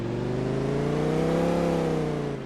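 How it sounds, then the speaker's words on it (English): A Lamborghini driving in Farming Simulator 22, its engine a steady close droning whir that rises slightly in pitch and eases back over a few seconds, heard alone. "Let's take the Lamborghini."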